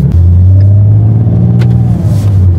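A loud Ford Mustang engine idles with a deep, steady low rumble close by, its tone dipping briefly before settling again, with no talking.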